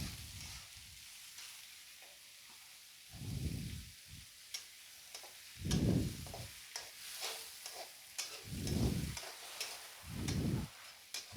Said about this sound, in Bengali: নেড়ে চেড়ে ভালো করে ভেজে নেব পেঁয়াজগুলো